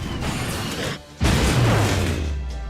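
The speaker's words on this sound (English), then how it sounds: "Let's just vacuum the enemies." A video game vacuum attack effect plays as a steady, loud rushing whoosh, briefly dips, then returns with a heavy thump and a descending swirling suction tone that carries through to the end.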